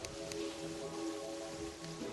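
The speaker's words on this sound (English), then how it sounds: "Oh, it's raining!" Steady rain pattering in the video game Terraria, a dense continuous hiss with faint tonal game music layered beneath it.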